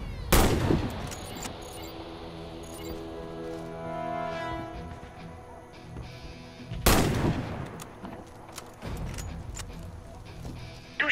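Sniper rifle fire at targets in Warface on Xbox Series X: two powerful, close single shots about six seconds apart, each with a lingering reverberant tail and a weaker thump between them.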